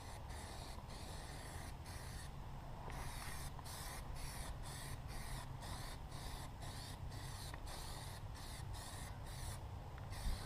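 Plasti Dip aerosol hisses onto wheel rims in light misting passes, a steady close spray broken by short regular pauses.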